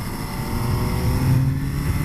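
The engine of a 2019 MV Agusta Turismo Veloce Lusso SCS motorcycle on a twisty road, heard as a loud, continuous buzzing drone with wind rush, shifting slightly in pitch as the bike downshifts and brakes.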